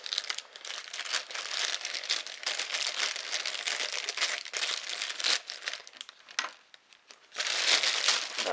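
Plastic packaging around a small black polka-dot wallet crinkles and crumples almost continuously as it is opened, close and fairly loud, with a brief pause near the end before a final burst of rustling.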